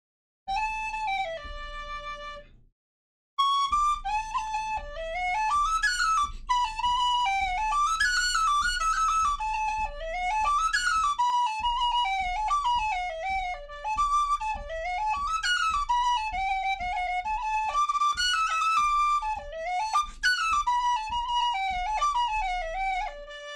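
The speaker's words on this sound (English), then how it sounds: "that's another one of Roy's whistles there in D" An Irish tin whistle in D plays a lively, ornamented traditional tune: bright, clear notes in quick runs and trills, loud and close, alone after a short opening phrase and a brief pause.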